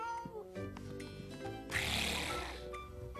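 Children imitate a cat with playful meowing sounds during a game, and a burst of noisy, breathy vocal play surges in the middle over soft background music.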